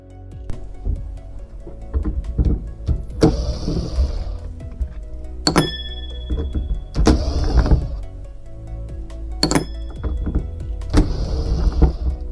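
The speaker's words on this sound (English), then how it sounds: "Let's start to remove all the screws." A Parkside PBSD 900 A1 belt sander being disassembled with an electric screwdriver, several short whirring bursts as the driver spins screws out, with small clicks and handling noises between them, close and fairly loud.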